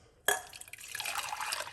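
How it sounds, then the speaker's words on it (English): Hot fruit tea made with mixed fruits is poured from the heat back into a pot, a quiet brief splash and trickle of liquid. "Pour it off, but I'm going to pour it back into this pot."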